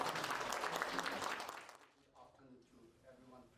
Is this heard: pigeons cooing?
no